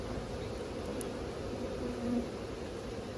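Honey bees buzz in a dense, steady drone, a swarm of wings humming continuously and fairly close, with no pauses.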